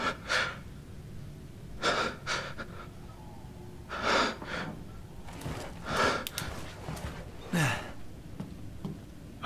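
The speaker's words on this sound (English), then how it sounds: "that was just Ethan breathing" Heavy, ragged breathing from the protagonist Ethan in the survival horror game Resident Evil Village, a series of sharp gasping inhales and exhales spaced a second or two apart, close and fairly quiet.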